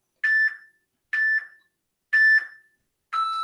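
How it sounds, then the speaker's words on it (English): A workout timer gives four evenly spaced electronic beeps about a second apart. Each beep is short, clear and bright, with silence in between. "as soon as that timer goes"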